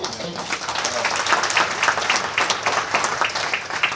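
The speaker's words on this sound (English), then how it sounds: "Another round of applause." A conference audience breaks into sustained applause, with many hands clapping in a dense, steady wash at fairly close range for about four seconds.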